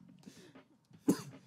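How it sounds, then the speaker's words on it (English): A single sharp cough lands close to a gaming microphone near the end, following a quiet, muffled stretch of low murmuring. "Just cough into the mic."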